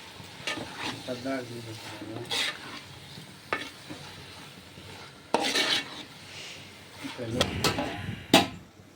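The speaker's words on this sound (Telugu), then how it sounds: "ఈ కూరను ఈ గోంగూర ఈ గరిటతో కలిగి పెడుతూ మొత్తాన్ని ఈ పాత్రలో నుంచి కలిగి పెడతా ఉండాలి" A ladle stirs prawn and gongura curry in a pot, giving scattered scrapes and clinks against the metal over a soft simmer, close up, while someone talks through much of it.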